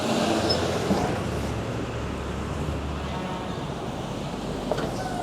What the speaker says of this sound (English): Hold on, let's let the bus go by.